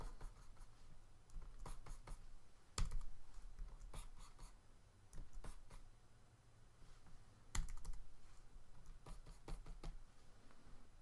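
Keyboard and mouse clicks tap out while retouching in Photoshop, quiet irregular clicks with a few sharper louder ones.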